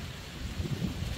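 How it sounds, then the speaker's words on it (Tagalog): Heavy rain pours steadily with gusting wind during a stormy spell at home, a dense, unbroken roar with low rumbling buffets, loud and close, with no voices. "Lakas ng ulan tsaka hangin."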